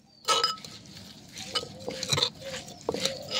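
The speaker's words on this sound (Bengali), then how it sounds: "এবার সব উপকরণগুলো একসাথে ভালোভাবে মিশিয়ে নিচ্ছি।" Raw mango pickle ingredients are mixed with oil in a bowl, giving intermittent wet stirring and scraping with sharp clinks of spoon against the vessel, moderately close and quiet between strokes.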